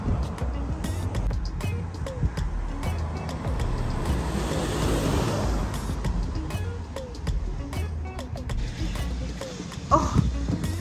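Sea waves wash onto a beach in Gangneung as a steady, broad roar that fills the scene, with wind noise and faint background sounds from nearby.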